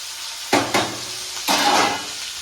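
Asafoetida and green chillies dropped into hot oil, giving sharp sizzling bursts that flare up and settle, with a louder sustained hiss near the end of the short stretch.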